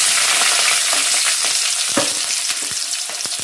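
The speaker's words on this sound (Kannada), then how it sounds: "ಸ್ವಲ್ಪ ಫ್ರೈ ಮಾಡ್ಕೋಬೇಕು." Onions frying in a pan with mustard seeds for a wild salted mango gravy, a steady bright sizzle with scattered crackles and pops, close and continuous with no talk.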